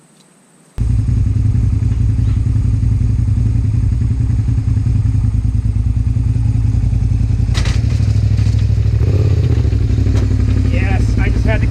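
Motorcycle engine, a TW, starts abruptly and runs loudly and steadily, then is revved harder while being ridden up a ramp into a pickup truck, with clatter and thumps near the end.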